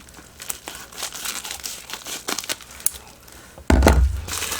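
A craft-supply package is cut open and unwrapped up close, with bursts of crinkling plastic and tearing wrap that build in an irregular rhythm, ending in a louder rustling thump.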